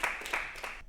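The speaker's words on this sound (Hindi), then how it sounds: "एक बार आप लोग जोरदार तालियां हमारे सत्यम सोलंकी के लिए बजाएं" Audience applause at a stand-up comedy show breaks out in a short burst of clapping from the crowd and fades quickly.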